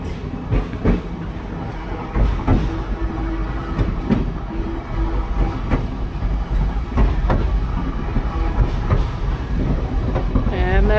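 A Reading & Northern passenger train rides along the track, with rhythmic clickety-clack of wheels over rail joints and a steady rumbling carriage heard from on board, loud and continuous, with faint voices at times.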